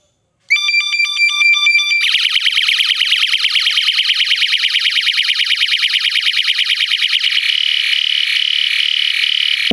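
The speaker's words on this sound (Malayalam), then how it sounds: "സ്വിച്ച് ഓൺ ചെയ്യുമ്പോൾ ഒരു തവണ ലൈറ്റും സൗണ്ടും പ്രൊഡ്യൂസ് ചെയ്യും" A wild animal repeller device alarm blares continuously: a rapid warbling chirp gives way to a fast pulsing trill, shrill and unbroken.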